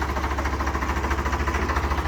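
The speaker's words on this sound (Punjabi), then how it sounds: "ਫਾਰਮ ਟਰੈਕ 60 ਆਪਣਾ ਚੱਲਿਆ ਜੀ ਅੱਜ" A Farmtrac 60 tractor engine idles steadily up close, with an even low chugging pulse and a slight knock to each beat, running without pause and with no voices.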